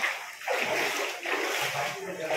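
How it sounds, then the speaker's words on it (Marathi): Rainwater is scooped out of a flooded house in Mumbai with close, repeated splashes and sloshing pours while someone talks over it. "हे पाणी काढण्याचं काम चालू आहे"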